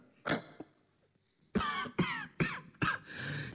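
Coughing in a Bengali audio drama: one harsh cough, then a pause and a run of four or five loud, close coughs in quick succession, heard alone with no talk.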